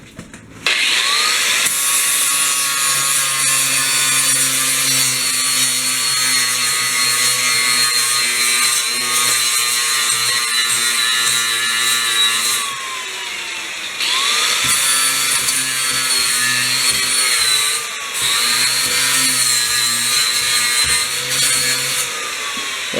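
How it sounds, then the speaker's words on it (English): Power tool grinding out Bondo body filler on a 1983 Porsche 944, a loud continuous whine with steady tones that dips briefly twice before spinning back up, running alone without talk. "So we're going to keep grinding this out, and we'll have to weld in a new piece."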